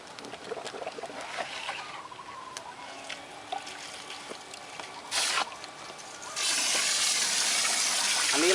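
Water flows from a 12V 120W DC submersible solar pump, a steady trickling splash that swells into a stronger, louder gush in the final seconds.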